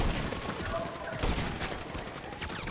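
Rapid bursts of gunfire from GTA V fill the scene, a steady dense crackle of shots layered over loud game noise, with a voice talking over it.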